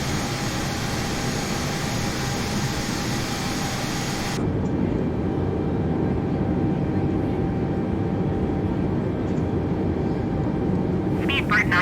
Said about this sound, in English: We've got a plane on the runway. Probably just landed.